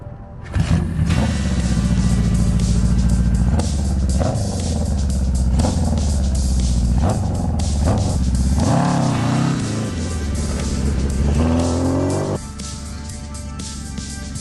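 A 1979 Suzuki GS 750 motorcycle rides past, its engine revving and droning loudly and steadily with shifts in pitch as it accelerates, close to the listener, with no talk over it.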